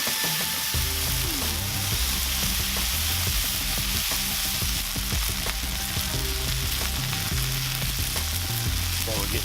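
Cheeseburger patties fry on a Lodge 14-inch cast iron griddle with a steady, loud, dense sizzle that carries on unbroken throughout, over a low background hum.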